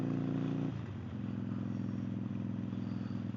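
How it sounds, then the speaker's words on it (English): A 2012 Harley-Davidson Sportster 48 with its Evo engine idles in a deep, loud, steady rumble, shifting to a slightly lower lumpy beat after a moment and holding there, with no voices. "2012 Harley-Davidson Sportster, the 48."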